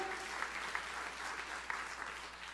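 Steady applause from an audience, a dense patter of many hands clapping continuously with a few sharper claps standing out.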